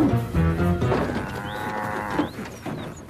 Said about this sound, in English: I distinctly heard a moo.